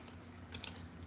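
Close, quiet clicks on a computer keyboard and mouse while text is copied, rapid and light with a few louder taps, and no voices.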